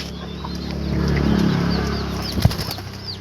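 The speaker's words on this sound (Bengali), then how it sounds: "আরেকটাও চলে এলো উড়ে," An Australian dove, a pet bird, flies in to drink water, its wings giving a brief rushing flutter that swells and fades, followed by a sharp landing thump, while faint bird calls sound in the background.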